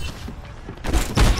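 Gunfire in the Overwatch beta shooter game: a quiet stretch of game ambience, then two loud, booming broadband shots in quick succession near the end.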